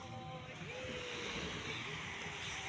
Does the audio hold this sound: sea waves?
yes